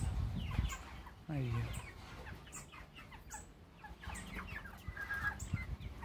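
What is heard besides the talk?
naked neck chickens clucking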